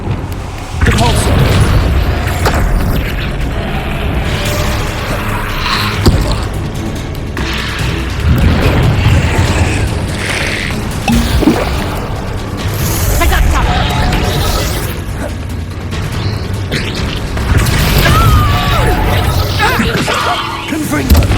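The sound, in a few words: Repulso spell cast in Hogwarts Legacy video game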